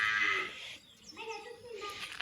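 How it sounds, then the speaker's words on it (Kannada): Goats kept near a home call out, a couple of bleats close by, one strained cry followed by a brief second call, with faint background noise. "ಅವು ಮೇಕೆ"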